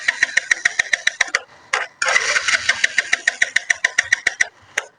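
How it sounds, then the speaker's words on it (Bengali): A motorcycle running on a homemade substitute for octane and petrol cranks with a rapid train of loud, evenly spaced mechanical pulses. It briefly catches and sputters, stops, then starts pulsing again up close. "আবারও আমি একটু স্টার্ট করি, দেখুন"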